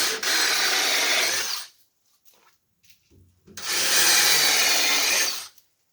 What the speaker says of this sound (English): I drill the 5 holes